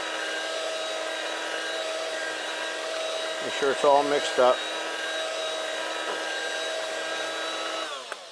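A vacuum pump runs steadily while degassing lost-wax casting investment, a continuous motor drone with a brief whirring mechanical burst in the middle and someone speaking over it.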